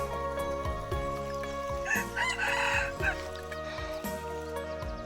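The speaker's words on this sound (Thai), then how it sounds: "มาก็ต้อนรับด้วยเสียงไก่เลย" A rooster crows repeatedly and loudly nearby, its long calls overlapping with other fowl clucking in the background; no one speaks.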